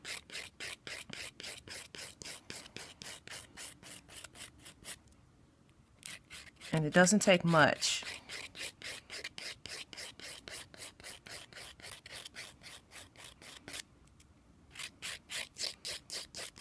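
A hand file rasps across an artificial nail tip in fast, even back-and-forth strokes, blending it into the natural nail, with a short pause and a brief spoken remark partway through.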